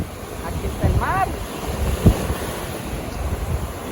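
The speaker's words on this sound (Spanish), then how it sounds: "Aquí está el mar," Sea waves wash onto the seashore under gusty wind buffeting the microphone, a loud rushing roar with swells, while a voice briefly speaks over it.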